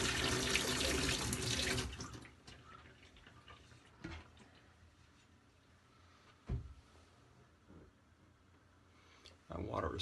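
Hot water running from a bathroom tap at a sink during a shave, a loud steady gush that cuts off after about two seconds, followed by quiet with occasional small knocks and clicks.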